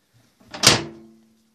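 A microwave oven door is shut once with a short, sharp clunk and a faint ringing tail, close and alone.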